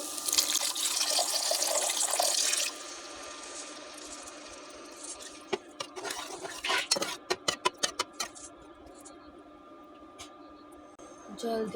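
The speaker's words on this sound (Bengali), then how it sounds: "কড়াই আমি জল দিয়ে জল দিয়ে" Water splashes into a hot wok of fried spices for a silver carp curry with a burst of hissing, followed by clattering utensil clinks and softer sizzling.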